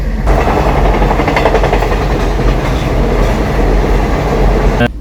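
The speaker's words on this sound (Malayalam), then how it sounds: "ഞാൻ എന്താ ട്രെയിൻ പോകുന്ന ഞാൻ കാണിച്ചു തരാം" A train thunders past a railway level crossing at Nadal on the NH66 route in Kerala, a loud, close, continuous rumble with rhythmic wheel clatter throughout.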